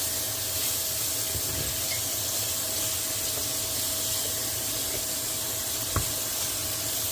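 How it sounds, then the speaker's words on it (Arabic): Meat frying in a pan, seasoned with seven spices and salt: a steady, even sizzle that hisses continuously throughout, close and fairly loud, with one small tap near the end. "ورح نقلي اللحمة."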